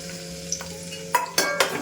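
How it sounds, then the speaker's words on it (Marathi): Crushed garlic sizzles in hot oil in a pan, with a spoon scraping and clinking against the metal in short, sharp bursts toward the end. "व्यवस्थित फ्राय करून घेते."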